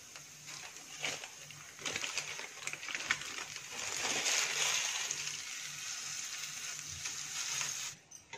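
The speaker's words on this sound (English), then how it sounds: "So now we'll add the pork mince" Pork mince frying with softened onions in a pan: a steady, moderately loud sizzle with occasional scraping stirs, running continuously and cutting off near the end.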